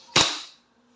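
WE 2011 Hi-Capa Dragon airsoft pistol running on green gas, a single sharp close shot with a brief, fast-fading crack and no talk.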